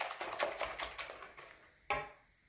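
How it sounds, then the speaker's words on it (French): A whisk or spoon stirring sugar, salt and vanilla together for crêpe batter, making soft, faint, rapid tapping scrapes against a bowl, with one sharper knock near the end. "Puis je commence à bien mélanger ces ingrédients."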